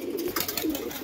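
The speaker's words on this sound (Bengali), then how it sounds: "শুধু পায়রা আর পায়রা" A brief, close burst of cooing from a large flock of pigeons kept at a home in Nadia district, two soft rolling coos amid rustling and fluttering noise.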